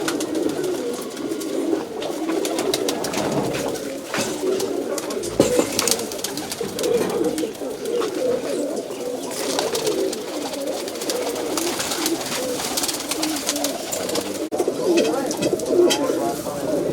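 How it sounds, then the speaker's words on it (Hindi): Several pigeons coo continuously in soft, low burbling calls, fairly close, with a busy mix of rustling and other bird sounds throughout. "हाँ, काफ़ी पुराना कबूतर है।"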